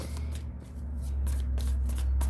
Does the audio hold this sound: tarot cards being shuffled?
yes